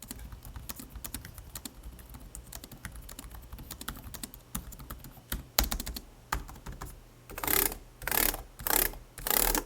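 Quiet, soft tapping on the non-clicky keyboard of an Alienware X17 R2 laptop, a steady rapid patter of muted keystrokes, followed by several louder rhythmic bursts near the end.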